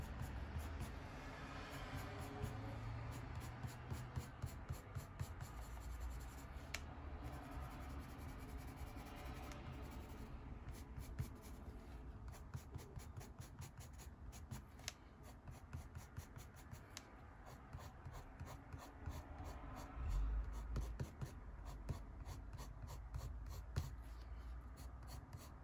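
Soft Derwent Coloursoft coloured pencils shading fur on paper give a steady, faint, close scratching hiss, with quick rhythmic stroke bursts that speed up in places.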